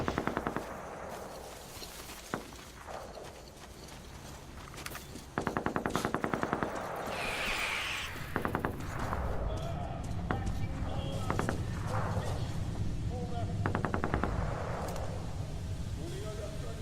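Metro Exodus gameplay with bursts of rapid automatic gunfire and sharp single shots over a noisy game background, along with footsteps and movement.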